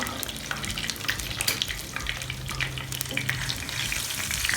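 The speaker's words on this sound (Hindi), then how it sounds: "ये देखिए मीडियम टू लो फ्लेम पे पकाया है मैंने इन्हें।" Aloo chapli kababs frying on a medium-to-low flame in a pan, a continuous soft sizzle with light scraping, close and steady throughout.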